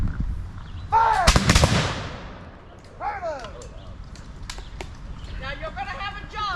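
A volley of black-powder muskets fires in an outdoor historical demonstration, one loud ragged blast followed by echoing tail, with shouted voices before and after.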